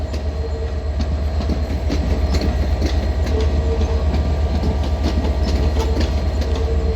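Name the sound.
passenger train departing London Victoria station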